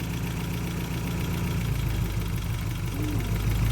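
An inline-four car engine fitted with a big cam idles, a steady low rumble with a slightly lumpy pulse, close and continuous with no voices.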